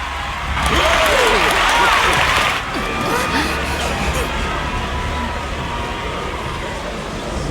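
Crowd in the Final Fantasy XIV game applauding and cheering, a loud burst of clapping that swells then settles into a sustained babble of many voices, with a character speaking over it.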